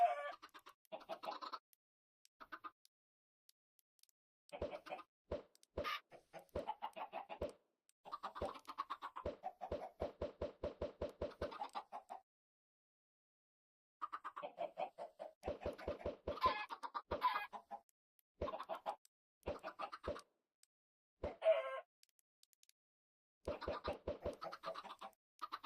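Chickens clucking in Minecraft, bursts of short rapid clucks and scratchy calls coming in clusters separated by brief silences, close and clear with no talk.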